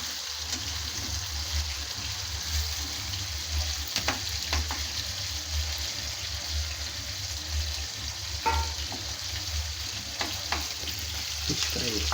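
Fish fries in a pan of oil with curry leaves, a constant hissing sizzle running throughout, with occasional light taps and stirring scrapes and no speech.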